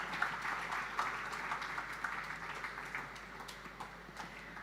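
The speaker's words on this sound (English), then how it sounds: "Let's have another round of applause" Steady audience applause fills a hall at a literary festival as speakers take the stage, a moderate, continuous patter of many hands without voices on top.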